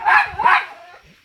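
Dog barking twice in quick succession, loud and close, at an outdoor pig slaughter and roast over a fire, with the second bark trailing off.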